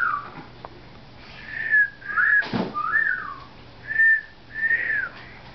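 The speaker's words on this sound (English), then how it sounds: "Did you hear me whistle?" A person whistles short rising and falling notes to a pet parrot, five or six brief chirpy phrases spaced apart at close range, with a soft sniff-like noise in the middle and a quiet room otherwise.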